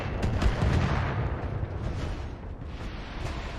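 A building collapses in a MechWarrior-style mech combat video game: a loud, deep rumbling crash with crumbling debris that peaks early and then slowly settles into a lower, steady roar.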